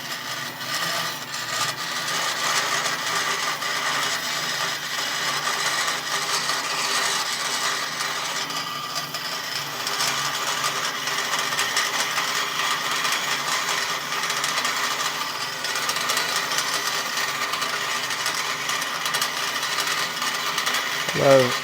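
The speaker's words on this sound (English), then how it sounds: "I love cutting stuff with my bandsaw." Bandsaw cutting through a metal fuel rail part for a boosted 427 small-block Ford EFI setup, a steady dense buzzing whine that carries on evenly throughout, close and fairly loud.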